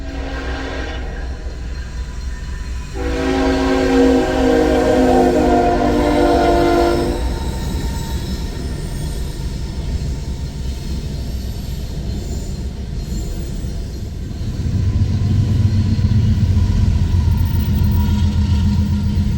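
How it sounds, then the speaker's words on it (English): A CN freight train rolls past at Gordon Yard in Moncton, a continuous heavy rumble of wagons with a loud horn blast early on and a deeper surge of engine noise toward the end, with no voices. "The train had arrived faster than I had anticipated"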